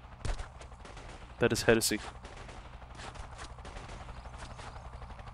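Video game gunfire from Delta Force 2, heard as a loud close burst of several rapid shots near the middle, with a single sharp report earlier and someone speaking over steady background game ambience.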